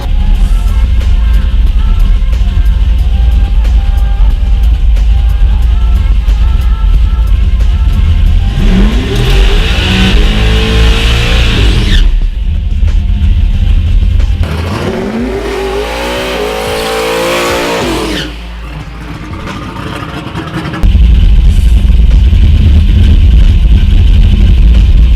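A turbocharged race car makes a loud close pass, its engine revving steadily throughout with sweeping pitch rises as it accelerates, then a brief dip before the roar returns at full strength.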